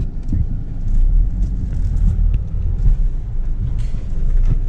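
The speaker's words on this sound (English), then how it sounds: "This is us driving in the corn" A car rolling through a cornfield, heard as a close, steady low rumble with buffeting wind noise on the microphone and brushing, rustling bumps as it pushes along.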